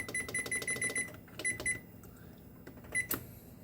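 Oven control panel beeping while being set to preheat to 425, a run of short, sharp electronic beeps in quick succession, then a few more scattered beeps, close and clear over a quiet kitchen background.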